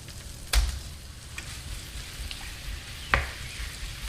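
Endives poured into a hot pan of butter over a lively gas flame, giving a soft, quiet sizzle broken by two sharp clatters and faint stirring scrapes.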